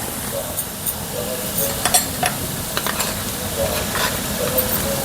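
Capsicum and carrot sizzle steadily in a pan with cumin and coriander, while a spoon stirs and scrapes through the vegetables in repeated clicks and rasps.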